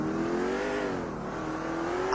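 Car engine in the PS3 game GTA 4 revs steadily with a bright harmonic whine that climbs gently over about two seconds, loud and alone with no talk.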